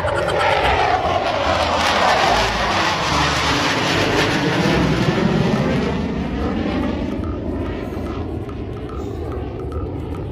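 A Garuda airplane roars loudly and steadily, its jet engine noise swelling and then slowly fading as it passes.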